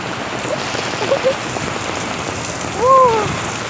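Steady rain pours down on a Philippine morning after a night of downpour, a broad even hiss throughout with a few faint bird-like chirps over it.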